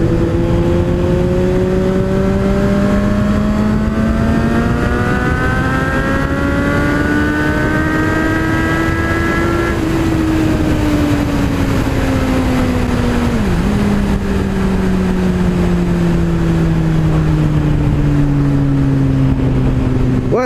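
A Suzuki 750 GSR motorcycle engine pulls hard in fourth gear, its loud steady whine climbing in pitch, briefly dipping at a shift, then climbing again from close by, with no talk.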